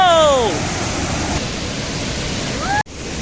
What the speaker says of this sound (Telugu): చూడండి ఫ్రెండ్స్ ఎంత బాగుందో వాటర్ ఫాల్.